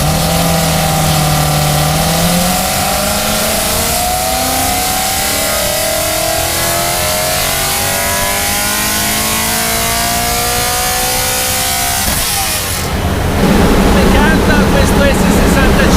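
A tuned BMW M3 with an S65 engine revs hard and steadily on a dyno for a long stretch, its pitch climbing in sweeps, then surges louder near the end; loud and close with no talking.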